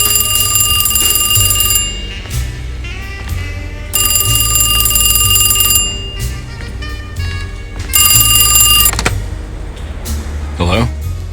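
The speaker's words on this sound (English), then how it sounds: "Who's ringing that phone?" In the Alone in the Dark video game, a telephone rings in loud, bursting electronic trills that repeat in regular pulses over a low, droning musical backdrop, with a brief voice near the end.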